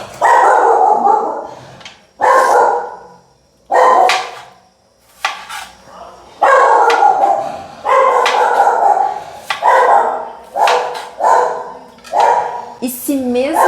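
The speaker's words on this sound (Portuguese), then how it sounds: "chegou alguém, os cachorros latindo" Several dogs bark in loud, repeated bursts as someone arrives, with yips and a whimper mixed in and a person talking over and between the barks.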